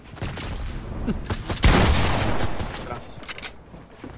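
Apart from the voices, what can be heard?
gunfire in Fortnite video game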